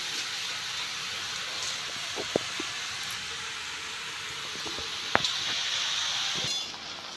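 A syrupy mixture of raw mango and melted sugar goes into a wok, making a soft, steady hiss broken by a few light clinks and taps of a utensil against the pan.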